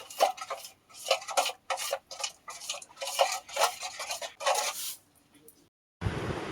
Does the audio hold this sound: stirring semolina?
yes